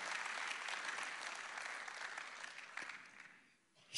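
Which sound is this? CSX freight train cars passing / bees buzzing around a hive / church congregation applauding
church congregation applauding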